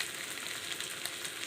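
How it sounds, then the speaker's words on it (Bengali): Onions frying in oil in a pan for a Bengali aloo dum curry give a faint, steady sizzling hiss over a short stretch, with no talking. "পেঁয়াজটা একটু লাল লাল করে ভেজে নেব।"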